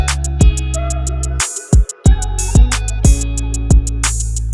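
An R&B vocal sample loop plays with drums layered on top, punchy kicks and snappy hits landing in a steady beat, loud and upfront, with a brief dropout midway.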